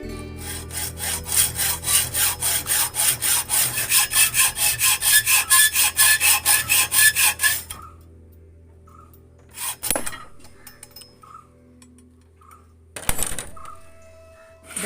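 A metal rod for a crossbow fishing arrow is sawn through in about a dozen quick, even back-and-forth strokes, loud and close, then stops, followed by a few sharp metallic clanks.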